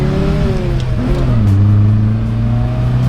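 A car engine revs steadily with a low, raspy growl that rises and falls in pitch, close and loud, with no voices over it.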